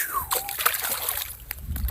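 Water splashes and sloshes as someone bathes in a river, with a steady wash of close splashing and a brief whistle-like tone near the start.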